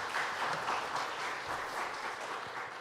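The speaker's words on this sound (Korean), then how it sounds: "우리 하나님께 영광의 박수를 올려드립니다." Steady applause from a church congregation at a 2021 Easter worship service, continuous and fairly close, filling the short stretch without any voices standing out.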